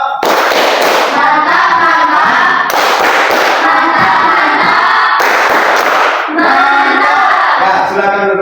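An audience performs the Indonesian 'tepuk mantap' clapping routine at a Christian religious education session, loud, dense group clapping in rhythmic bursts with cheering voices, swelling and pausing in sections across the whole stretch.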